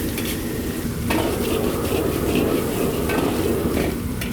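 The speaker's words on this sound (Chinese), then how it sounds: "我們給它煸炒一下， 炒到它微微打捲" Cured Chinese pork belly (la rou) is stir-fried in hot oil in a wok, giving a steady close sizzle with repeated scraping strokes of the spatula and no voices.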